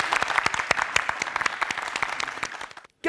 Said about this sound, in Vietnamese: Một tràng vỗ tay.